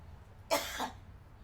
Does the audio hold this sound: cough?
yes